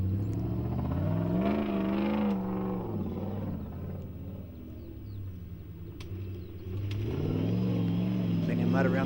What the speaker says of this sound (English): Lexus V8 in this D-Class vehicle. Power to burn.